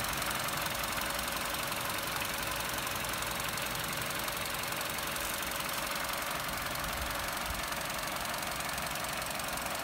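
A Vauxhall Corsa 1.2 SXI petrol engine idles steadily, a continuous even mechanical hum with a faint ticking texture and no voices, held close and unchanging for the whole stretch.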